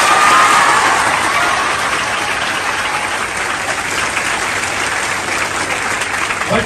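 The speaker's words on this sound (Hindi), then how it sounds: "तालियां बजाइए।" Loud applause mixed with cheering from a large audience at a coaching-institute launch event, a dense, continuous wash of clapping that swells at the start and carries on steadily without talk.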